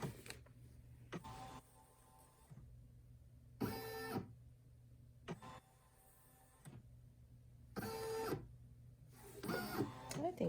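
A single-needle home embroidery machine stitches puff embroidery in rapid mechanical bursts, each run of buzzing, clattering stitches lasting about a second and separated by quieter pauses with a faint motor hum.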